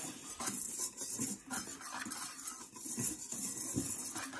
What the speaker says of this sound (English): I'm just gonna whisk that up